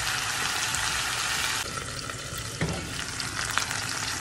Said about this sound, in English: I want it to sear on each side